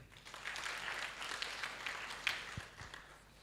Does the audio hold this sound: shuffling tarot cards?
no